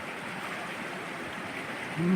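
The Lam Se stream flows toward the Mun River in a steady outdoor rush of moving water, moderately loud and continuous, with a voice starting near the end.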